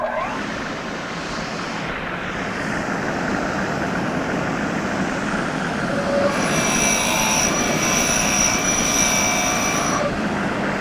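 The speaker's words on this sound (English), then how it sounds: "Start this machine, it's gonna open up and we're gonna let it eat." A Baileigh DM-10 deburring machine runs in second gear, giving a loud, steady mechanical roar that continues throughout, with a high, sustained whine joining in partway through.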